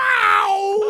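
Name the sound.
voice imitating a pained yell, 'yow'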